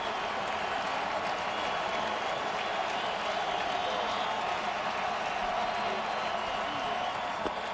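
A large baseball stadium crowd at a 2012 ALDS playoff game roars and applauds continuously for several seconds, loud and dense, with a broadcaster talking over it.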